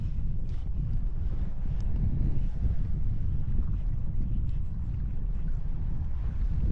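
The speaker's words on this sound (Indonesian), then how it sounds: "hanya diiringi gemuruh ombak dan desir angin yang menusuk kulit" Steady wind and low rumbling waves at sea on calm water, a continuous broadband roar with gusty buffeting against the microphone and no voices.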